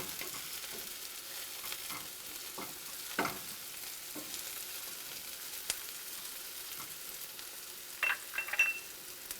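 Chopped tomatoes and olives fry quietly in a pan, a soft steady sizzle with occasional stirring scrapes and light clinks, no voices over it.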